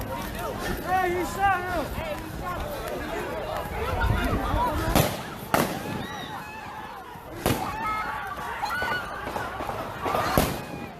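Several sharp gunshots crack out at irregular intervals over a noisy, shouting crowd during a violent street clash, while voices and commotion continue throughout.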